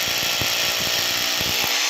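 A PBT-RH-26 rotary hammer bores a hole into a wall, producing a loud, continuous, gritty grinding whine with rapid hammering pulses that cuts off abruptly at the end.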